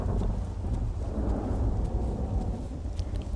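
Thunder from a nearby lightning strike in the video game The Isle rolls loudly and continuously, a deep rumbling roar with rain and wind noise mixed in, and no talking.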